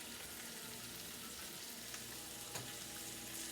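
Ham cooking in a frying pan, giving a steady, even sizzle and crackle that runs the whole time, close by, with no voices.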